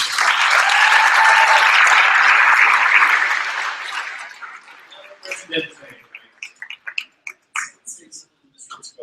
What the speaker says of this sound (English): Our president, ladies and gentlemen, another round of applause